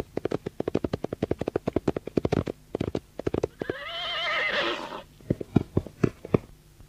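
A horse whinnies loudly amid fast, rhythmic hoofbeats of riders arriving, a radio drama sound effect with repeated clip-clops before and after the long neigh.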